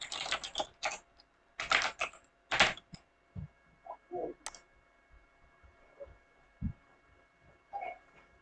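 Someone types a name on a computer keyboard in quick irregular bursts of close, crisp key clicks separated by short pauses, with a few lone taps near the end.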